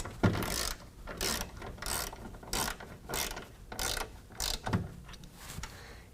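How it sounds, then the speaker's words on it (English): A hand ratchet tightens serrated flange nuts while running boards are fitted to a 2019 Dodge Ram 1500, giving close, crisp bursts of clicking in repeated strokes with short pauses between them, with no talking. "these are serrated flange nuts, so you don't have to tighten them down super tight"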